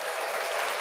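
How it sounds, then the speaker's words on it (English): A brief burst of dense, steady audience applause fills the room at a discussion event, many hands clapping together at an even level. "Let me give y'all a round of applause."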